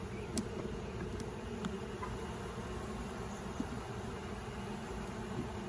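Steady, dense buzzing of many honeybees in a hive of sick bees, a continuous low drone close by with no voices.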